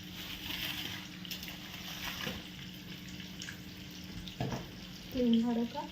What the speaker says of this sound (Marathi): मस्त ताजी पापलेट आम्ही फ्राय करत आहोत, मालवणी मसाला टाकून